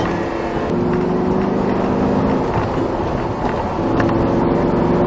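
A Lamborghini accelerates hard on a track, its engine a steady, loud drone that holds for the whole stretch with a slight dip midway, no talk over it.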